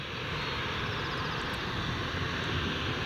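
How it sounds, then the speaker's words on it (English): An EasyJet airliner in from Gatwick at Glasgow Airport, heard as a steady, loud, broadband engine roar that holds without a break from start to finish, with no voices over it. "EasyJet from Gatwick."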